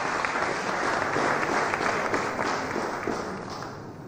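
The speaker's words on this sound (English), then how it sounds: "A round of applause for her, please." Applause from a crowd at the launch ceremony of Ghana's Memory of the World Register, dense sustained clapping from many hands that gradually fades toward the end.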